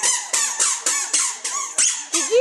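A child's squeaky shoes squeak close by, eight sharp, high squeals at a quick, even walking rhythm, each step setting off its own loud squeal with no talking.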